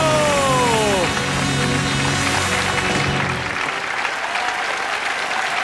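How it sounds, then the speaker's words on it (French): A French TV studio audience applauds loudly as a guest comes down the stairs onto the set, dense clapping over brief music, then tapering off. "applaudissez très fort Gérard Jugnot"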